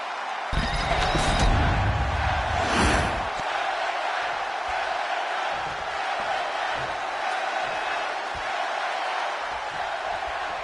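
A wrestling event crowd roars loudly and steadily in a large arena, with a sharp burst of cheering and impacts near the start settling into a continuous wash of crowd noise.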